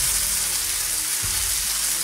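Vegan semolina Grießschmarrn, made without milk or eggs, roasting in a pan while being stirred, giving a steady close sizzle and crackle with soft scraping throughout.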